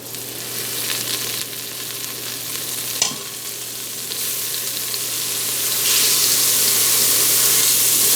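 Country Crock dairy-free plant butter melting in an Instant Pot, a steady hissing sizzle that swells louder toward the end, with a sharp clink near the middle.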